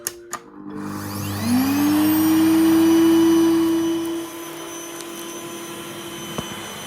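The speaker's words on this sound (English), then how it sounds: "your vacuum's going to work better, and it'll even be less noisy" A Hoover vacuum cleaner starts up with a rising whine, runs loudly for a couple of seconds, then powers down, followed by quiet clicks.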